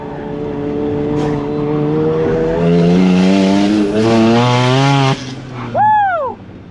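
A Porsche sports car tears through a fast lap at full throttle, its engine loud and close, climbing through several upshifts with rising harmonic whine, then cutting off abruptly before a brief tire squeal or downshift flourish.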